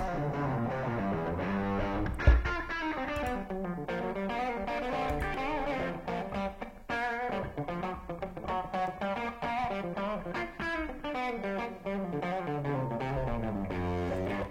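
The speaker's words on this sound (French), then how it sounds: "une petite balance sur les guitares électriques pour avoir le son pur d'une des grattes" Clean electric guitar played straight into an amplifier with the reverb removed, a continuous strummed and picked passage of sustained chords and notes, close and even in level, with no talking.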